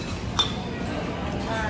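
A utensil stirring food gives a single bright clink, then fainter light taps against the dish, heard under steady background chatter and a voice.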